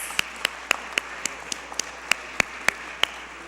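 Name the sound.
applause for teachers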